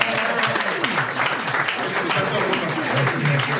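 A crowd claps for the founding president at a year-end holiday celebration, steady applause mixed with voices talking and calling out over it.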